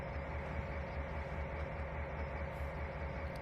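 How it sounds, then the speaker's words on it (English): Train running over rails in the Trainz 2019 video game, a steady rumbling roll with a low drone and faint rhythmic clicks, heard alone at moderate volume. "Now, as Jane clears the switch"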